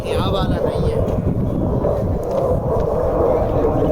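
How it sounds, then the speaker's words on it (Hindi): A fighter jet roars overhead along the mountain route of the Amarnath Yatra pilgrimage, a loud, continuous, broadband rumble that fills all four seconds without pause. "ये शायद फाइटर जेट की आवाज़ होगी।"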